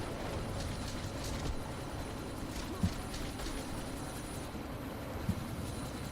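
Helicopter in Deus Ex: Mankind Divided, a steady rotor drone holding at moderate level under faint game ambience, with two brief soft thuds midway.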